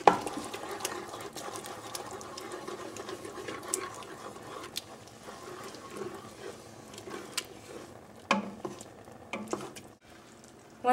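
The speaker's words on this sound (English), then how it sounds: "Now you can let this cook, stirring it regularly for 10 more minutes." A spoon stirs a cooking pot of abish with soft, irregular scrapes and light clinks against the pot, quiet and close, with brief sharper knocks near the end.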